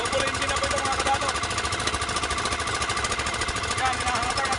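A double engine runs close by in a loud, rapid, steady chugging rattle, while someone talks over the noise.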